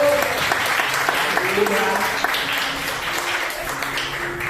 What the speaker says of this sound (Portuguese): E as palmas vão beijar o nome do Senhor. Estão batendo.